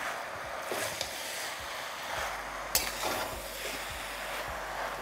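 A fish head chhyachra with tomato being mixed in a pan: soft frying hiss under a few scraping stirs, close and fairly quiet, no voices.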